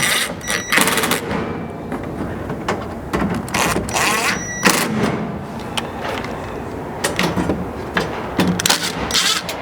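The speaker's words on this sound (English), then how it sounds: "you can start tightening everything up." Hardware being tightened on a bed side MOLLE panel in a 4th gen Toyota Tacoma truck bed: continuous close-up metallic clicking, rubbing and scraping of tools and fasteners, busy and irregular with no talk.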